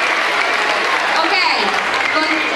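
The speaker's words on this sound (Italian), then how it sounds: "Comunque facciamo un ultimo applauso a tutti e tre" Audience applause for three performers at an orchestra competition prize event, a steady, dense clapping that fills the room evenly throughout, with no spoken words over it.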